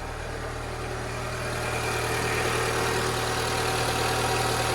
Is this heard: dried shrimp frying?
no